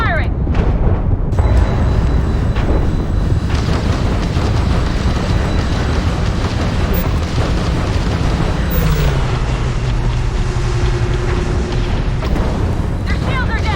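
Starfield space combat with ship weapons firing in heavy booming bursts and blasts over a dense, continuous battle din, with an in-game voice calling out over it.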